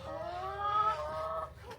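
A chicken on a farm with hay around gives a single drawn-out, rising cluck of moderate loudness, fairly close, with no one talking over it.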